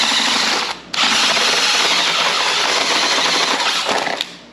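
A drill with a 3/8 inch bit bores through soft metal for a motorcycle luggage rack, a steady close grinding whir that cuts out briefly near the start, then runs on evenly to the end.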